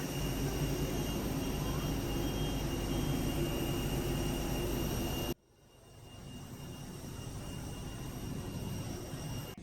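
A steady, loud roar of a jet airliner cabin on a domestic flight in Vietnam. Midway the sound cuts out sharply, then the engine drone returns slightly quieter and holds on with no talking.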